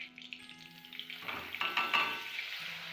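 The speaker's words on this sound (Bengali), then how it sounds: "আদা আর পেঁয়াজ পেস্ট আছে, দিয়ে দেবো এবার তেলে" Ginger and onion paste hits hot oil in a pan for a Bengali prawn curry, bursting into loud hissing sizzle about a second in and crackling steadily to the end.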